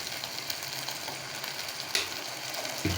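Chicken pasta with egg fries in a pan, a dense close sizzle and crackle running steadily throughout, with a couple of brief utensil knocks and no speech.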